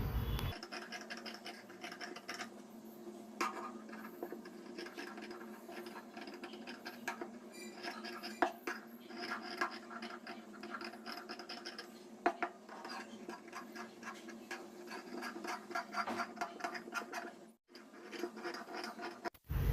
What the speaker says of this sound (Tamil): இப்போ எக்ஸ்ட்ரா இருக்கிற இந்த ஃபேப்ரிக்கெல்லாம் வந்து நம்ம கட் பண்ணிக்கலாம்.